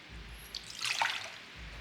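Water is poured into a mixing bowl to start a sourdough bread dough: one brief, soft splashing pour close by, with quiet surroundings.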